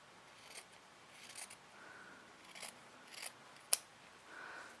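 Scissors trimming extra blue fabric while making a clam-shaped bag, several quiet snips spread across the moment with one sharper close cut near the end, no talking.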